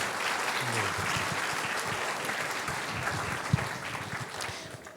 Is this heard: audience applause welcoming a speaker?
yes